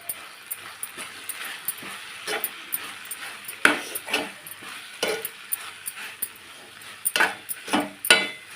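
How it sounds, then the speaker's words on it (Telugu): A spoon stirs spices and chilli powder into a mixture in a frying pan, producing repeated sharp scraping clinks against the metal over a soft sizzle. "ఒకసారి కలుపుదాం."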